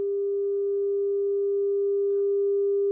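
A steady pure calibration test tone plays from a phone into a Sony TC-K677ES cassette deck, one continuous unbroken pitch held loud and even throughout with no other sounds.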